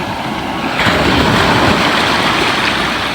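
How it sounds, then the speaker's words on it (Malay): Ocean waves break on a beach nearby, a loud continuous wash of surf that swells stronger after a moment, with wind buffeting the microphone. "Ini ombak."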